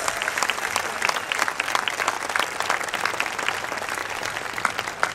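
Crowd applause at an outdoor political rally in Parque Tierno Galván, a large gathering clapping steadily and densely for about five seconds, fairly loud and continuous with no talk over it.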